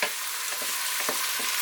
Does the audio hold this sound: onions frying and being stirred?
yes